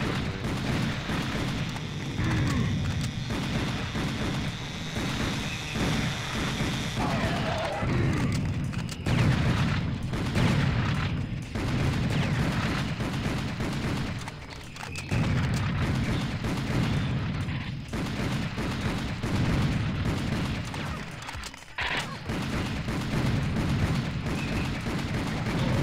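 Gunfire and explosions roar through a fight against enemies in Serious Sam HD: The Second Encounter, a dense and constant barrage of loud shots and booms with no pause, and no one speaking.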